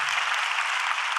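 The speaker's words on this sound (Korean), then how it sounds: "박수 한번 해주시고" A congregation claps together at a Korean church's Friday evening worship service, a brief, even burst of applause without speech.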